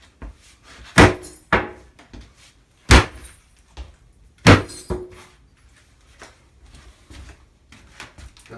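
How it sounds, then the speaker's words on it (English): Sharp, loud impacts striking the edge of a bathtub during removal, several heavy hard blows spaced irregularly with lighter knocks and rattles in between, close by and without speech. "They say that we can just start hitting right at the edge here, see if we can break it up."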